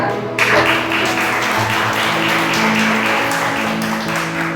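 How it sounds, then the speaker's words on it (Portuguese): A church congregation bursts into applause for Jesus, quick clapping starting abruptly and carrying on loudly over sustained music. "Palmas para Jesus de novo"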